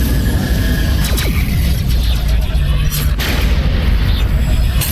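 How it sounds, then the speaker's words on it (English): Missiles firing and exploding in a space battle in Rebel Galaxy, loud continuous booming rumble punctuated by sharp streaking launches and bursts, dense and sustained throughout. "Watch out for the missiles."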